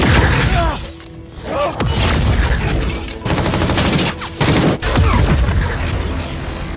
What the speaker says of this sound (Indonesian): Baku tembak pun terjadi di luar